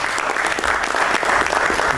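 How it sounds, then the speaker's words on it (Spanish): Loud, close applause from an audience at a Spanish-language book presentation in Pereira, steady and full throughout with no voices on top. "un aplauso por favor por acompañarme."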